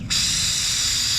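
Oil draining from a 2021 Kawasaki ZX6R motorcycle during spring maintenance, a steady close hiss that starts abruptly and runs evenly without pause, with no voices.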